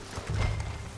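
Horse hooves in the Western video game Red Dead Redemption, a loud, dense low thudding of clip-clop steps over a short second, with no talk.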